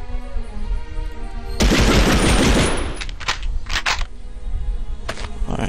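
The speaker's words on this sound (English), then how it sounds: "I might as well use the machine gun" A machine gun fires in the Medal of Honor Rail Canyon mission, opening with a sustained loud burst and followed by a few shorter, separated volleys over a steady game background.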